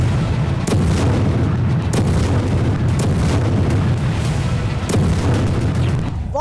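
Heavy explosions from Russian bombardment in Ukraine rumble through a dense low roar, with several sharp booming bursts spaced a second or two apart, loud and continuous.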